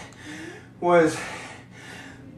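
Heavy, labored breathing after an intense rowing-machine interval workout, with a series of breathy exhales and gasps close to the mic and a brief voiced word among them.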